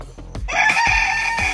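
A young stag rooster crows loudly in a backyard, one close, full cock-a-doodle-doo with short clucks just before it.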